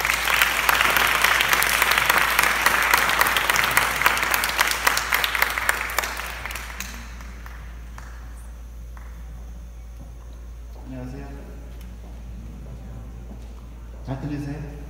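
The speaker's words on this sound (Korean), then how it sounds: "그럼 큰 박수로 존리 대표님을 모시겠습니다." Company staff in a lecture hall welcome a guest speaker with loud, dense applause that tapers off after several seconds, leaving room noise, a steady low hum and a few soft sounds.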